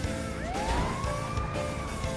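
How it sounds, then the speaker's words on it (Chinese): An ambulance siren in GTA FiveM wails with slow rising and falling sweeps over steady traffic and engine noise, loud and continuous, with no voices. "看来救护车要回去医院了，我们刚好可以跟着走。"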